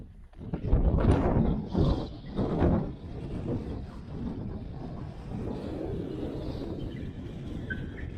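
Strong wind gusts buffet the microphone on a lake during pan fishing, a loud rumbling roar in the first few seconds that eases into steadier, softer blustering.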